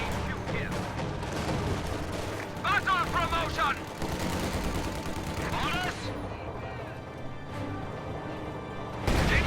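A mine detonating under a 222 armoured car in a strategy video game, heavy booms and crashes mixed with scattered gunfire in a dense battle soundscape, while a commentator talks throughout.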